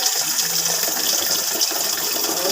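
Tap water running into a pot for rice gruel, a steady loud gush with a bright rushing hiss that holds constant.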